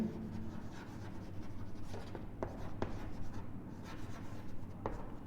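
A pen scratches out a maths answer by hand on paper, quiet close strokes and a few sharp ticks over a low steady room hum.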